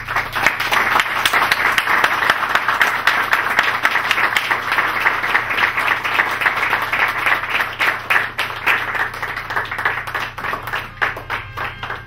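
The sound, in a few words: audience applause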